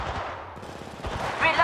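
Gunfire in the mobile battle royale shooter Apex Legends Mobile: a short burst of rapid shots under a busy game mix, with an in-game voice callout and a few sharp chirps near the end.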